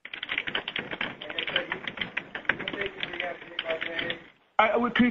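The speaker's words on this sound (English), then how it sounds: "Could you please stop typing?" Rapid, steady keyboard clatter fills the clip at a New York Jets press conference, close and busy, with a voice talking underneath; it drops out briefly near the end before resuming louder.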